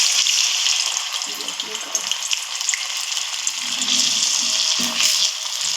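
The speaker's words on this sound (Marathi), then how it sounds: "मग एक एक करून यात गरम तेलात टाकायचं" Potatoes dropped into hot oil fry with a loud, steady, close-up sizzle that continues without a break, with a faint rattle of water or utensils underneath.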